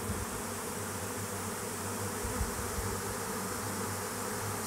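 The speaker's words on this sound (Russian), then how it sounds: "Сколько пчел летает, смотрите," A swarm of honey bees in flight near an apiary fills the air with a dense, steady buzzing drone, close and continuous without pause.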